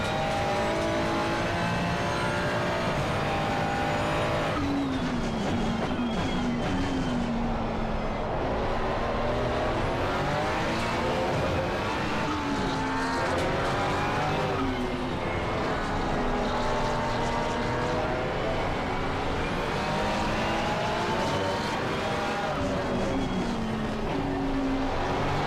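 Race car engines roaring in a sim racing game at Barcelona, loud continuous revving with rising and falling pitch as gears change, dense and unbroken throughout.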